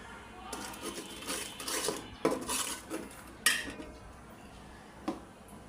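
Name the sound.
ginger garlic paste being mixed in a pot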